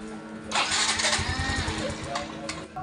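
A Yamaha Mio i 125 scooter, fitted with a replaced ignition coil, fuel filter, spark plug and throttle body, cranks and fires up within half a second, then settles into a close, steady, slightly uneven idle.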